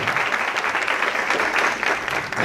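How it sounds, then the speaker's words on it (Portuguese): Audience applause at a public administration panel on politics, steady dense clapping filling the room for a couple of seconds with no talk over it. "Eu pedi a palmas para ela."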